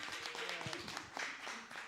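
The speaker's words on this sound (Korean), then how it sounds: "부장님 나오실 때에 힘차게 박수 한번 주세요" An audience at a youth Sunday church service claps. The applause is faint and scattered, with rapid overlapping hand claps for a couple of seconds and no one speaking.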